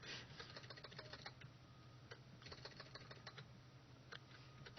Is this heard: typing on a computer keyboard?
yes